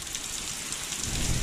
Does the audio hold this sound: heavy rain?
yes